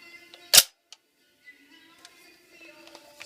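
Bolt release snaps home on a 300 AAC Blackout XCR-L rifle, one sharp metallic clack up close, followed by a few faint ticks and small handling clicks.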